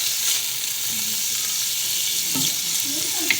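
Carrots and green beans stir-fried in a pan for sotanghon beef noodles, a steady close sizzle with a stirring scrape near the end.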